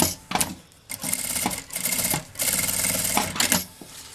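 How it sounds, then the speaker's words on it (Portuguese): A sewing machine stitches a seam on a fabric travel case, running in several bursts of rapid, even mechanical clatter with short pauses between, close and clear, with no talking. "E passa uma costura aqui também."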